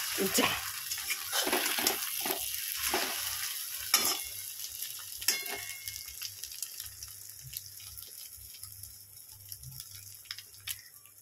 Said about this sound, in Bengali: যে মশলাটায় ডিম রান্না করব সেই মশলা দিয়েছি এর মধ্যে, দিয়ে ডিমটা ভেজে নিচ্ছি